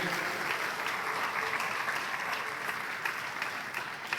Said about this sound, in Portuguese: Aplaude ao Senhor, glorifica o nome do Senhor.